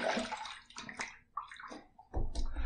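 A razor fitted with a Feather blade is rinsed under water after a shaving pass: uneven splashes and trickles come in short bursts, close by, with a louder gush near the end.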